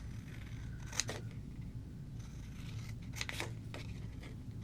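Scissors snip around paper stamped sentiments, two quick pairs of crisp close cuts with quiet pauses between them.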